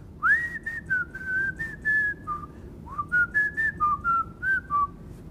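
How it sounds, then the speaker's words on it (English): A clear, melodic whistled tune rising and falling in short phrases, played alone and close with brief pauses between notes. "he's just whistling"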